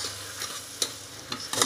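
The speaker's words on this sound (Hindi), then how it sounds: "और इसे भी मसाले के साथ थोड़ी देर भूनेंगे" Chopped coriander fries with spices in a pan for a ridge gourd and dal sabzi, a close, steady sizzle punctuated by several scraping stirs of a spoon, with no talking.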